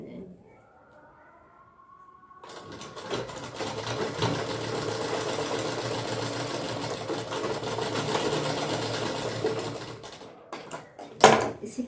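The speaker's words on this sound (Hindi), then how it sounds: "जिप के ठीक एंड पॉइंट से ही हम सिलाई करेंगे।" Sewing machine stitching a zipper seam at the waist of a lehenga, running in one steady, loud mechanical whir for about eight seconds after a quiet start, then stopping with a few clunks.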